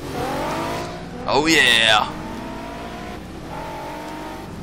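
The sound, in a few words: race cars starting a race in a racing video game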